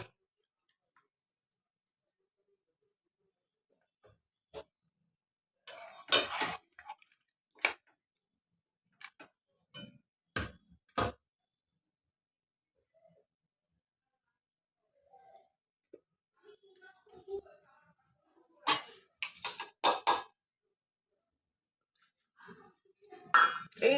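Mutton curry stirred and sautéed in a pot, its cooking water added, brings scattered metallic clinks and scrapes of a spoon against the pot, sparse and uneven with quiet gaps and a few quick clustered bursts.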